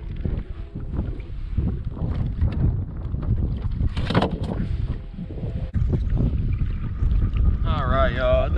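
Strong gusts buffet the microphone with a constant roaring rush, while someone talks intermittently underneath and water sloshes nearby, on a crappie fishing outing.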